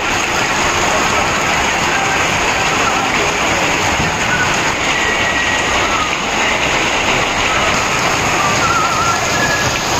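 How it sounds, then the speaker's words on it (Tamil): Heavy rain pours continuously around Thuraiyur near Trichy, a dense, loud, even hiss of falling water throughout with no distinct thunderclap. "துறையூர் சுற்றுவட்டார பகுதிகளில் இடியுடன் கூடிய கனமழை பெய்ததால் மக்கள் மகிழ்ச்சி."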